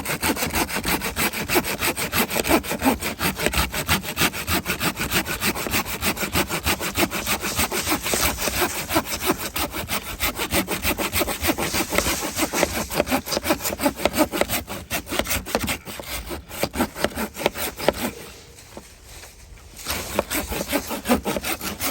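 Corona 10-inch folding hand saw cutting through an old, dead, hard tree trunk outdoors, a steady rapid back-and-forth rasping of strokes running continuously and close, pausing briefly near the end before resuming.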